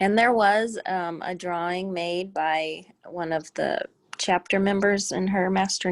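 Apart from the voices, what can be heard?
No distinct noise like a dog, phone or traffic.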